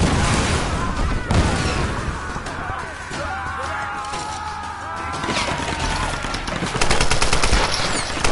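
Gunfire from the video game Tomb Raider Definitive Edition rattles in loud, rapid automatic bursts and single cracks, mixed with crashing impacts and game voices, continuing throughout.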